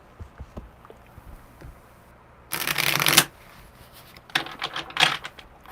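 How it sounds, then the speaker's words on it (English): Two loud, fast riffling shuffles of a tarot card deck, each a dense burst of papery flutter, with soft handling sounds and quiet pauses between. "Good shuffle."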